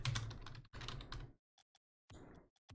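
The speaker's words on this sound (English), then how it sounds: "you guys can hear my keyboard" A computer keyboard clicks rapidly and loudly up close in dense bursts of fast typing, broken by short pauses and a few isolated single keystrokes.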